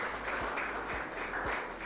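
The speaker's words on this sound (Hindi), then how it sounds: "सबसे पहले एक्सपर्ट्स का तालियों के साथ स्वागत कीजिए" Audience applause welcoming experts at a televised farmers' question forum, a soft, steady patter of clapping heard faintly and fairly distant, with no talk over it.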